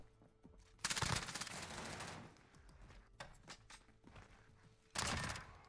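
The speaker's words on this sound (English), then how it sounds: "Shooting." Gunfire in a Call of Duty Search and Destroy match: a loud burst of rapid automatic shots, then quieter scattered shots, and a second sharp burst near the end, with no talking.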